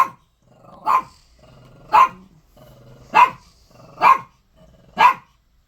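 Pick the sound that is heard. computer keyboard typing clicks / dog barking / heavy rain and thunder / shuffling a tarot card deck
dog barking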